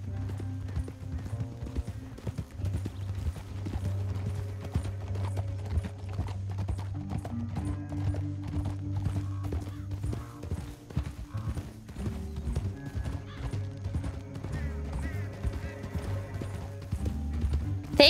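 Horses gallop in the Red Dead Redemption 2 video game, hooves drumming in a fast, steady clip-clop for the whole stretch, with an occasional whinny and brief low voices over it.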